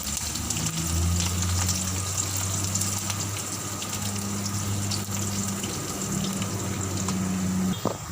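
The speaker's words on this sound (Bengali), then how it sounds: "পেঁয়াজটাকে এবার লাল লাল করে ভাজতে হবে" Sliced onions fry in oil in a pan over medium heat, a continuous dense sizzle and crackle holding steady throughout, with a low hum running underneath.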